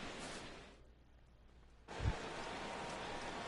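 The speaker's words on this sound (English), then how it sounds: "Rain continues to fall here in the 6th." Rain falling during a sixth-inning baseball game in the MLB The Show video game, a soft steady hiss that dips briefly into a quieter lull before returning at full level.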